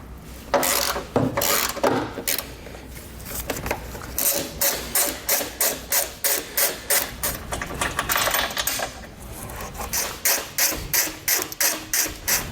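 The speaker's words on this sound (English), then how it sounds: "Next, 3 bolts on your subframe. We're going to remove the 2 lower ones on each side. We're going to use a 15mm socket." A hand ratchet with a 15mm socket turns subframe bolts during a base plate install on a 2017 vehicle, giving a steady run of sharp, close mechanical clicks that speed into fast rhythmic bursts, loud and alone.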